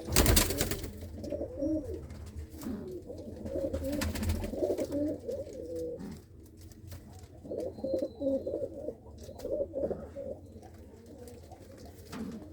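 Pet pigeons, kept as a hobby flock of long-distance flyers, coo in repeated throaty rolls close by, with soft overlapping calls and occasional clicks and rustles, and no talking.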